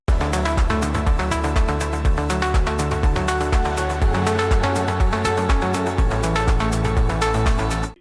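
Synth lead from a melodic house track plays a busy, rapid melodic pattern over pounding kick drums and bass. The mix is loud and full, with no voices.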